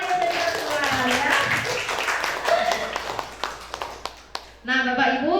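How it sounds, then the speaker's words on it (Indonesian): Applause from a school gathering of teachers and staff at an elementary school in Sumbawa, many hands clapping in a dense burst that thins to scattered claps, under and between a man's speech, before talk resumes. "tepuk tangan dulu Bapak Ibu dan teman-teman ya."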